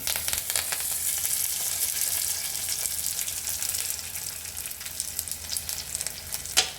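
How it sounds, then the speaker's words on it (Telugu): Curry leaves fry in hot tempering oil with lentils, giving a steady, close, bright sizzle that holds for several seconds, with faint stirring and no talk. "లైట్గా కొంచెం కరివేపాకు వేసుకుంటున్నాను."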